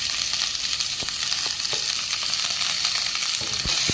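Finely chopped small onions and garlic fry in hot oil, a loud, dense, continuous sizzle with occasional crackles and stirring clicks, close by.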